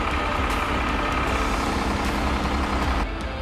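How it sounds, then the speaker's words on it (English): Air suspension on a 27-year-old truck being raised: a loud, steady rushing hiss over a low idling rumble that holds for about three seconds, then drops away abruptly. "I'm just going to send the air suspension up now."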